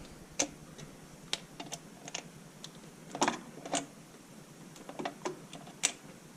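Torque wrench set to 20 inch-pounds clicking while working on a 2002 DT466E engine in a school bus conversion, a scattering of faint sharp ticks and clicks at irregular intervals in a quiet space.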